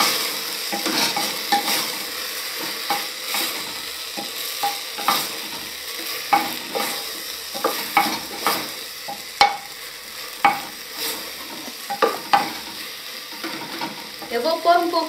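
Cow tongue frying in a pan with colorau and green herbs, stirred with a utensil that scrapes and taps the pan in a steady rhythm over a continuous close sizzle.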